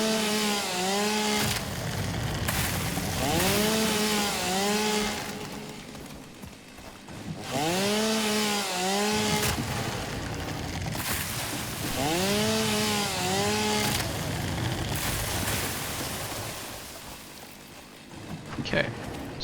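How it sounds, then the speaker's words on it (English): A chainsaw in the game Satisfactory revs through three long cutting bursts with rising and falling pitch, separated by short idle gaps, loud and close; a voice talks between the cuts. "first I need to chainsaw all this"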